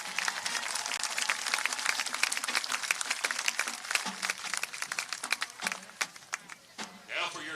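A crowd at a high school football game between Ozark and Republic applauds the 2020 homecoming court, with dense, crackling claps and occasional shouts and voices rising through the sustained ovation.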